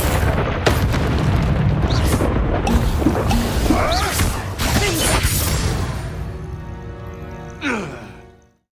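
The Confringo fire spell in the game Hogwarts Legacy bursts in loud, booming explosions with crashing, shattering debris, then tails off into a fading rumble and a final smaller blast.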